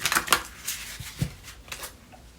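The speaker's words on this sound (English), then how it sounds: "let's give it one more shuffle" Tarot cards shuffled up close in a short, uneven handful of sharp papery flicks and taps, with a soft thump partway through and no voices.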